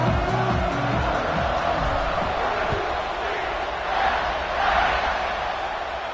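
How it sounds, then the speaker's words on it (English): A college football stadium crowd roars in a steady, dense wash of cheering during a UCF versus Utah game, with a commentator talking over it. "this crowd is feeling themselves after that last drive"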